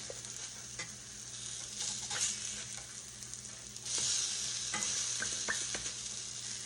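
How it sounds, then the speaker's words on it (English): Food frying in a pan on a home stovetop during Sunday lunch cooking, a steady close sizzle with occasional stirring and scraping clicks, growing louder partway through. "cooking them on this side and the other side a little bit, we're going to stick them in the oven to finish up"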